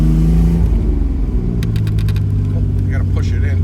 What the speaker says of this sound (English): we're just going to take this for a quick drive around the block, go through the gears